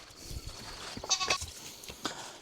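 Goats kept by a rural family in Vietnam bleat at close range, with two or three short, nasal calls rising over quiet background rustle.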